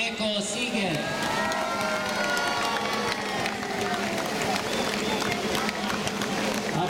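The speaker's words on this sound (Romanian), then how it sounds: "Aplauze și felicitări tot pentru premiul cel mai îndemânatic jucător, Dumitrescu Laurențiu" Applause and cheering at a youth minibasketball awards ceremony, a dense, loud crowd noise with shouts and whoops continuing throughout in a large hall.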